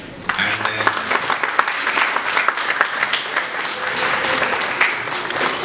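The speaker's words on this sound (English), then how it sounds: "again give an applause to him" Audience applause welcoming a guest speaker at a law institution event, steady and sustained clapping from a sizable crowd, with some voices faintly mixed in beneath it.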